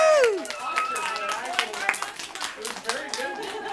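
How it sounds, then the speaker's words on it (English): A crowd claps in a round of applause for Mrs. DL, scattered sharp claps running for several seconds while voices talk and shout over them. "Give Mrs. DL a round of applause"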